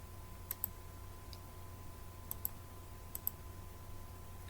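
A computer mouse clicks on a login button several times in a quiet room: pairs of faint, sharp, close clicks are scattered over a low steady hum.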